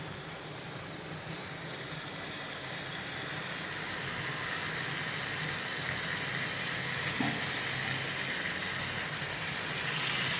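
Ridge gourd vegetable curry sautéing in a little oil, a steady, soft sizzle and hiss that holds evenly throughout with no talking.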